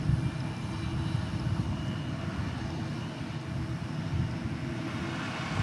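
A Boeing 787-8 Dreamliner taxis past at DFW Airport, a steady low engine rumble that holds evenly throughout without voices.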